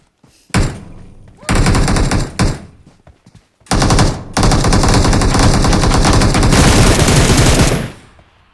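Automatic rifle fire in a PUBG Mobile match: a short burst, then several longer rapid volleys of loud, close shots, ending in a sustained stream of fire before cutting off.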